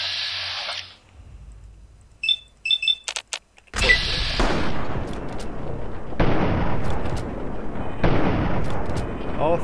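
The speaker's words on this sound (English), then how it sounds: "Taking fire. Switch weapons. Switch to my hunting rifle." Hunting rifle fire in Fallout 3 during a fight at Arlington Library: a few sharp cracks in quick succession, then loud booming shots ring out with lingering echoing tails, each new blast cutting in abruptly.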